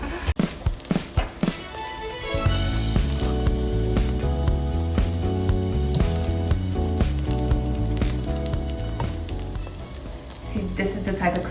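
Dough pockets with cheese frying in a pan like egg rolls, a crackling sizzle that runs beneath loud background music, with a few sharp knocks at the start.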